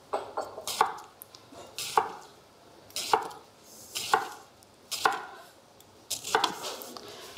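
A knife slices a carrot into rounds on a cutting board, about eight crisp thuds in a steady rhythm, close up with no talking.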